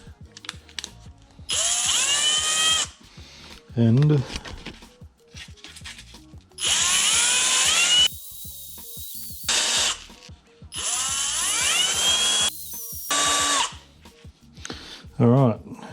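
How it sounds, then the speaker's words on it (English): A power drill running at low speed whirs in several bursts of a couple of seconds each, while cleaning Honda 900RR motorcycle carburettors, with a short spoken word and handling noises in the gaps. "This is straight into the drill. Put them on low speed."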